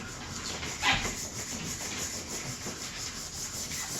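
Old block plane iron rubbed on a 1000 grit sharpening stone, a steady gritty scraping hiss in continuous strokes with one brief louder swipe near the start, close and alone.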